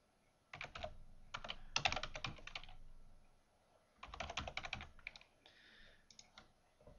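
Bursts of typing on a computer keyboard while entering a username and password, two clusters of quick, close key clicks separated by a short pause, with no talking.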